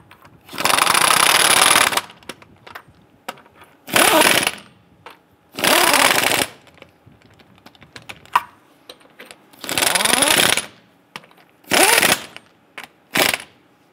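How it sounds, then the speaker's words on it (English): Impact wrench snugging lug nuts onto a wheel of a 2002-2008 Dodge Ram 1500, six loud rattling bursts of one to two seconds each, separated by quiet pauses with faint clicks. "Once we have all these on, I'm gonna go ahead and snug them down."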